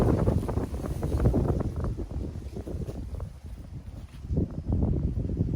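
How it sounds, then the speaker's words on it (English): Gusty wind buffets the microphone in a backyard garden by a raised bed of herbs and nasturtiums, a loud low rumble that swells and dips continuously for several seconds with no talking. "Wind blew the dust directly in my eye."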